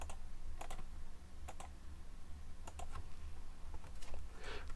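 A few quick key presses of a shortcut on a computer keyboard, soft distinct clicks in small clusters close by over a low steady background hum, with no talking.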